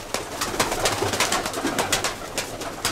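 Racing pigeons of the Kozani breed cooing in a loft in Kozani, Greece, with repeated soft coos and occasional wing flutters, fairly close and steady throughout.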